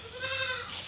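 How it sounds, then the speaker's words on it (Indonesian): A single goat bleat, a short wavering cry close by and clear, with no voices. "kambing ya udah ditunggu nih kambingnya. Nah, ini kambingnya nih."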